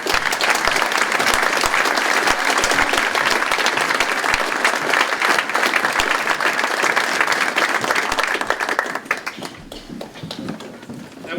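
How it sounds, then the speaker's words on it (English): Loud, continuous applause from a crowd at a Veterans Day ceremony for a general, dense and even before thinning sharply into a few scattered claps near the end. "Round of applause for our general"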